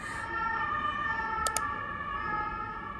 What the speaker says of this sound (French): il y a une grosse sirène qui vient de passer